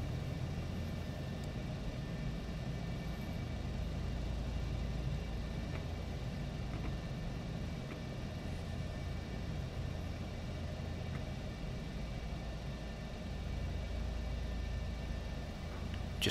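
An F-4 Phantom II jet in Microsoft Flight Simulator slowing on the ground, its engines giving a steady, low rumbling drone with a faint high whine, unchanging throughout.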